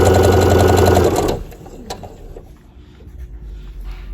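A sewing machine runs fast and loud stitching a quilt seam, a dense buzzing whir that stops after about a second, leaving quiet room noise and faint handling clicks.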